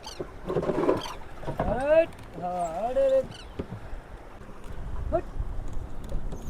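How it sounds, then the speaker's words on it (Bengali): A rowing boat moves along a river at sunset in strong wind: intermittent creaks and knocks of the rowing with water and wind noise, plus brief voice-like tones. "দেখো সূর্য ডুবু প্রায় আমাদের নৌকো এগিয়ে চলছে"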